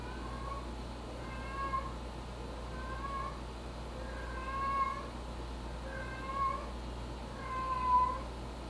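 A cat meows repeatedly in the background over a steady low hum, with drawn-out calls coming every second or so at moderate volume.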